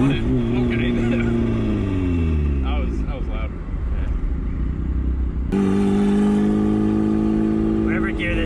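Turbocharged Mazda Miata engine, an eBay turbo kit on the street, revving hard through a gear with a rising pitch, easing off, then pulling again loud and close with a steady drone.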